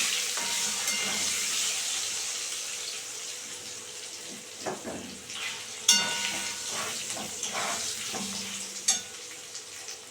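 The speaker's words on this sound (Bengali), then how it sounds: "নুন দিয়ে দিচ্ছি তেলে। আলুটা ভাজবো তো তাই।" Potatoes frying in oil seasoned with salt and turmeric hiss in a steady sizzle, with a few sharp utensil clinks and scrapes over the bubbling.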